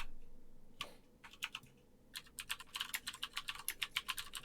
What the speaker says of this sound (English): I'm just typing to people. I'm responding. I'm sorry, I have the worst keyboard in existence.